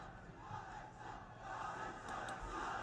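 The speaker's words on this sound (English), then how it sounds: "They're chanting Alexa." A wrestling arena crowd chants in unison at a SmackDown event, a steady, distant roar of many voices that swells slightly toward the end.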